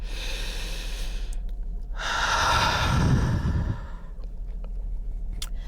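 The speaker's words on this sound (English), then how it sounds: "let's take a deep breath." A single long, deep breath drawn in and let out slowly, close and fairly loud against a quiet background, with no speech around it.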